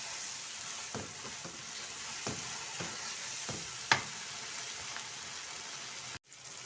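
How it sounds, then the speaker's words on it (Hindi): Ridge gourd and onion frying in oil in a pan, a steady close sizzle broken by soft scraping stirs roughly every half second and one sharper clink, with no talking. "बस 2 मिनट इसकी और भुनाई होगी तो इसका ऑयल बाहर आ जाएगा।"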